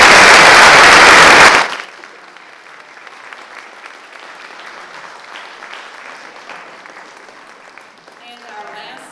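An audience claps loudly for candidates at a county commissioner and county clerk forum. The burst ends abruptly after a couple of seconds, leaving a quiet room where a voice speaks faintly.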